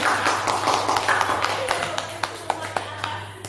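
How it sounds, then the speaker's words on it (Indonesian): Audience clapping for Bu Irma at a school community event, a loose patter of hands that thins into a few distinct, sharper claps toward the end, with a steady low hum beneath. "tepuk tangan untuk Bu Irma sekali lagi"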